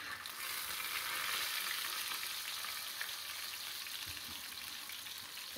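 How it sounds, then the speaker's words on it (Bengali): A large poa fish fries in heated oil, making a dense, steady sizzling hiss at close range that fades slightly toward the end, with no voices. "মাছটা একটু ভাজা হোক"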